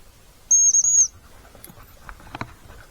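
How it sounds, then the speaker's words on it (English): A dog-training heel whistle gives one sharp, high, steady blast of about half a second, loud and close, on a hiking trail with a Labrador nearby, followed by faint rustling and footsteps. "blow the heel whistle."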